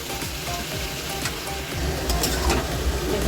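Cucumber from a home garden sautéing in a pan for a vegetarian dish, a steady sizzle and crackle that swells louder in the second half, with light scraping of stirring and no voices.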